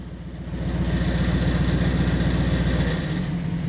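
A Jeep or Dodge truck engine runs steadily while driving on a beach in two-wheel drive, a loud, close, continuous low rumble that rises after half a second and eases slightly near the end, with no talk.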